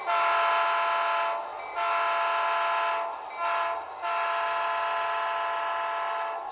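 A model railroad freight locomotive running under DCC-EX control, its sound system blaring a loud, sustained multi-tone horn in long blasts broken by short gaps.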